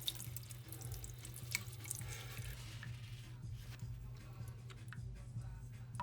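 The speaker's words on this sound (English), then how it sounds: "I'm gonna rinse the rest of that off." Tap water running into a sink while etched copper is rinsed, a quiet continuous splash with faint clicks and drips.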